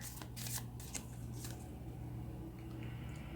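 A tarot card drawn from the deck: a quick papery riffle and slide of cards, soft and close, over a low steady hum.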